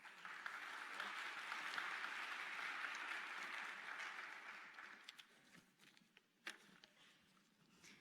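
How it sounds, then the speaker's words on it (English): Sustained applause from a panel discussion audience, steady for several seconds before thinning out into scattered claps. "So, round of applause,"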